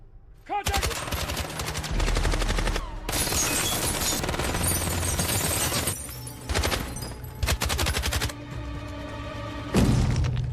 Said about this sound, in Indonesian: lalu terjadilah tembak-tembakan dengan para anak buah Liam.